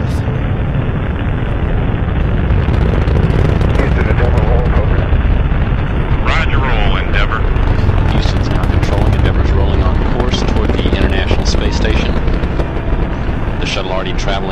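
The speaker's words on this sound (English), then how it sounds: "We have booster ignition and liftoff of the Space Shuttle Endeavour" The Space Shuttle Endeavour's boosters ignite and it lifts off on mission STS-100, a loud, continuous crackling roar that fills the whole clip under a commentator's voice.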